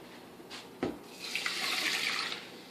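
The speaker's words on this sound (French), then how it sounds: "Un petit peu d'eau." Water is poured into a pan to make a sauce, a short close splash and a steadily rising trickle lasting a couple of seconds.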